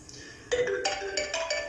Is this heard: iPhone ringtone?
yes